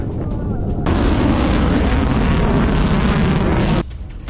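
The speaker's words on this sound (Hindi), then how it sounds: "इजराइल के शहरों पर मिसाइलें दागी गई है।" Missile strikes and explosions from news footage of the Iran-Israel conflict: a sustained, loud, broadband roar of blasts that cuts in abruptly, holds for about three seconds, then drops back to a lower rumble.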